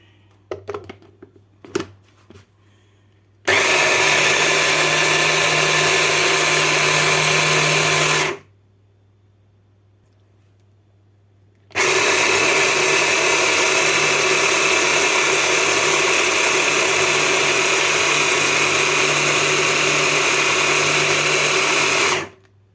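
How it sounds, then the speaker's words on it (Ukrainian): A few light knocks, then a kitchen blender whirs loudly in two long bursts of steady grinding, separated by a brief pause of near silence. "подрібнила в блендері"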